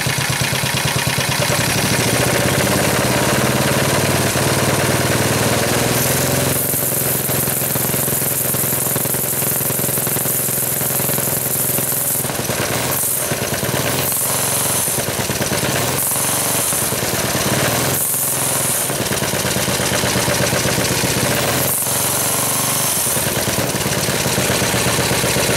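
A small engine on a homemade go-kart runs loudly and close at a rough, steady idle around 500 rpm, its chugging briefly dipping and catching several times later on.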